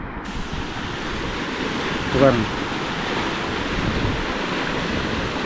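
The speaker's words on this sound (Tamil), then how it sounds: "இங்கே அவ்வளோத்துக்கு தண்ணி வந்து கொண்டு இருக்குது" Steady rushing floodwater roars continuously during Cyclone Ditwah in Mullaitivu, Sri Lanka, a dense wash of noise with a brief voice murmuring partway through.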